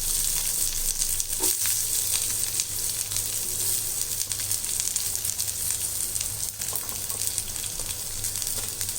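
Three medium onions fry in oil alongside roasted urad dal for a roadside-style onion chutney, a steady bright sizzle with occasional stirring scrapes, close and continuous.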